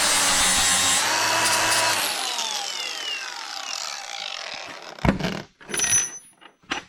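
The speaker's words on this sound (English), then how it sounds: "I'm just going to take a grinder and we'll scuff some of that rivet off before we set it." An angle grinder scuffs down a steel rivet during an Oliver 82 mower overhaul, a loud, harsh grinding burst for about two seconds before the disc winds down with a falling whine, followed by a few scattered knocks and handling noises.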